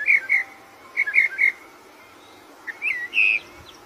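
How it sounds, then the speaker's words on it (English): A mockingbird sings clear, high whistled phrases in short bursts, two quick groups followed by a pause and then a longer, rising run, heard alone and fairly near against a quiet background. "female mockingbirds sing and are known for being exceptional imitators"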